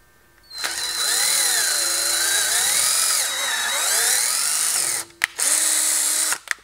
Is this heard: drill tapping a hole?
yes